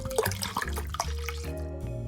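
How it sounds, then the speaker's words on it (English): Orange juice poured into alcohol-free red wine for a sangria-style mocktail: a steady, close liquid pour with gurgling splashes throughout, no talking. "Add about 250 milliliters of orange juice."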